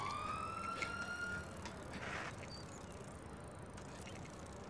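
A police siren in the video game GTA 5 wails with a rising electronic tone for the first second and a half, then fades into a low hum of game noise with no talk.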